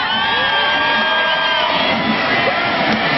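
A sellout stadium crowd at a 1999 Women's World Cup group-stage football match in Chicago, USA against Nigeria, roars and cheers continuously with scattered whoops and shouts, loud and dense throughout.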